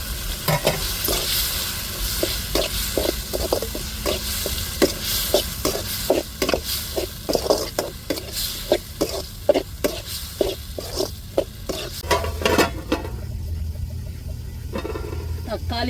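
Curry leaves and stone-ground ginger-garlic paste fry in a pan, a low sizzle broken by a quick run of rhythmic spatula scrapes and taps. A voice talks over parts of it.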